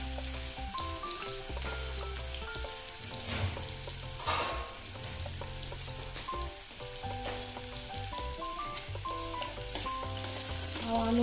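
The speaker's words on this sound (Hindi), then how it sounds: "आलू हमारे फ्राई हो गए हैं, अब हम इनको एक प्लेट पे निकालते हैं।" Potatoes frying in a pan give a steady, continuous sizzle that holds at an even level throughout, with music playing alongside.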